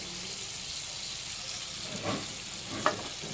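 Mustard and poppy seed paste sizzling with tomato in hot oil, a steady soft frying hiss throughout with a couple of brief stirring scrapes near the end.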